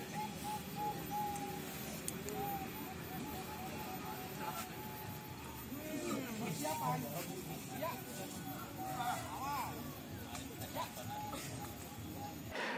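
Zebra doves (perkutut) coo at a monthly bird-song contest league held in Sumber Sewu, repeated soft cooing phrases from several birds at moderate distance over a steady outdoor murmur of crowd and ambience.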